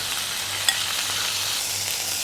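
Steady sizzling of chicken searing in a hot pot, a continuous crackling hiss with one brief clink partway through, no voices.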